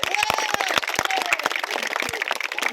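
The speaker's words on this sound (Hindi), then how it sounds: "जोरदार तालियां हो जाए" Dense crowd applause with scattered sharp claps rises at an invitation event for a local sporting club in India, while a voice carries on faintly over it.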